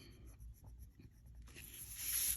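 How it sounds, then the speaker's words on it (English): A sharpened black colored pencil shades back and forth across paper in quick, soft scratchy strokes, close and faint, growing slightly louder and rougher toward the end. "I kind of want to slowly color it like back and forth so it gets a good dark black line."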